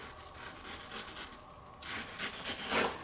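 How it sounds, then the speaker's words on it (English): A knife slices along the broad cheeks of a mango beside its seed, giving soft, close, repeated rubbing and scraping strokes that grow a little stronger toward the end, with no talking. "I'm just cutting along the mango cheeks"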